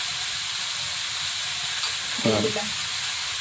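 Snakehead fish curry fries in a large wok with turmeric, salt and bay leaf, giving a steady close sizzling hiss with a brief stirring clatter near the end.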